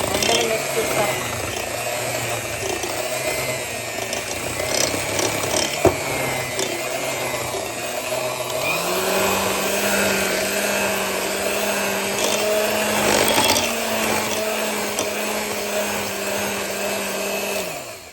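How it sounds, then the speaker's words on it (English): An old electric mixer beats eggs, sugar and vegetable oil, its motor droning loud and close throughout, with a rattling whir and a pitch that rises partway through as the speed changes. "I'm using my trusty super old mixer"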